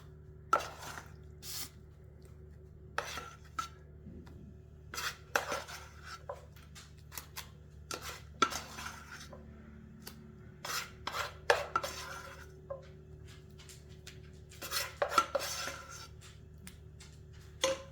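A spatula scrapes and taps as apple filling is spread evenly over a baking layer of blondie batter in a pan, with repeated short rasping strokes and light clinks, quiet and close with no talk.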